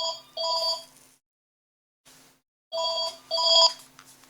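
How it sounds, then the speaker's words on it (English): A telephone rings in two loud electronic trilling bursts separated by a pause, close by and with no one talking over it. "that'll be the phone."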